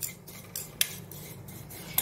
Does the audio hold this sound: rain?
no